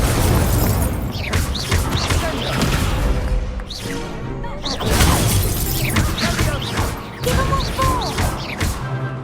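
Incendio fire spells blasting in the Hogwarts Legacy video game: a steady run of loud, booming, crashing bursts over a dense, continuous backdrop of game sound, with brief dips between volleys.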